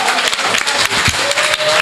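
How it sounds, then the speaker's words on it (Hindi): Loud applause from an audience at a stage event, a dense, continuous wash of clapping filling the whole short stretch. "जोरदार तालियां।"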